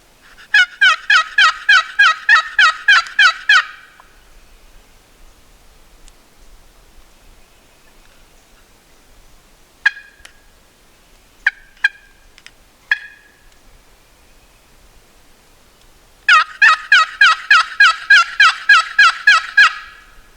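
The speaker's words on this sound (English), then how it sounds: "We had one gobble closer down the ridge from us." A wild turkey gobbler on a Tennessee mountain ridge lets out a loud rattling gobble at the start and another near the end, with a few short calls between them over a quiet background.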